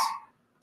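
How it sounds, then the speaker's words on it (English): Dog barking at someone arriving at the door indoors, two brief sharp barks separated by a short silence, moderately loud and close. "the dog's barking"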